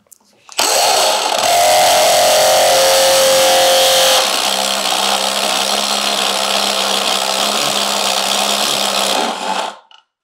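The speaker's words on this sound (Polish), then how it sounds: "żeby użyć to naprawdę duże wiertło" Milwaukee Shockwave impact-duty step drill bit boring a large hole of about 26 mm, a loud steady power-drill whine running nearly ten seconds, shifting to a lower pitch partway through as the bit widens the cut.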